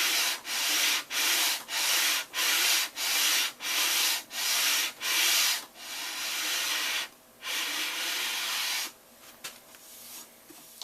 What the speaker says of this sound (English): so I'll use my sanding board, just a piece of wood with sandpaper attached to it, to smooth it out